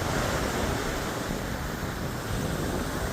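Strong wind buffets the microphone on a Florida beach near Daytona, a loud continuous rush with possible surf beneath and no talk.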